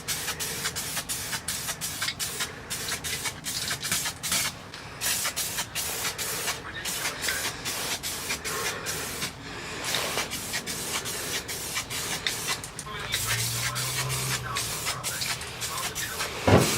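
Aerosol can of weld-through primer spraying onto a masked-off car chassis rail and cross beam, a steady close hiss running in repeated bursts with brief pauses between passes.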